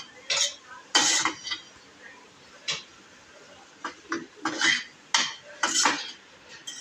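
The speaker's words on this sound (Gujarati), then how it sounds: "અને આ બધું સરસ રીતે મિક્સ કરી દઈશું." Grated paneer filling for momos being stirred in a bowl, giving a series of near scraping and clinking utensil strokes at an uneven rhythm, with short pauses between bursts and no talking.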